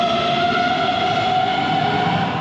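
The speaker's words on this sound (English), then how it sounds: "the train will now carry on all the way to Karlskrona" A train arriving at Malmö after crossing the Øresund Bridge makes a steady, loud rolling hum with sustained tonal whine, close and even throughout the short stretch, with no voices.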